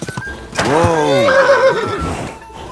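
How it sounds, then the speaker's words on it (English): A horse in the video game Kingdom Come: Deliverance 2 gives one long, loud whinny that rises and then trails off, heard up close. "What a beautiful horse."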